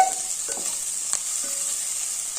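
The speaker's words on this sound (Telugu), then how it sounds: "మధ్య మధ్యలో కలుపుతుందండి" Steady frying sizzle with a few scraping, clinking strokes of a utensil stirring food in a pan, close up and without speech.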